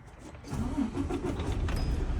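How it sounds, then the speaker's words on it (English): A C.R. England semi truck's diesel engine cranks and catches, settling into a steady low rumble close by after a brief starter whir. "I'm just going to start the truck, rebuild the air pressure."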